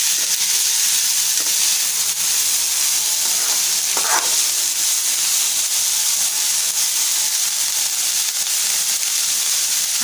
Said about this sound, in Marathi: आपण इथे साफ करून घेतलेला फ्लावर टाकूया। छान असं मिक्स करून घेऊया।